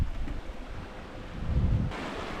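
Wind rushing steadily past a sailboat running downwind in about 15 knots with the jib out and no pole, close and continuous, with water washing faintly beneath it.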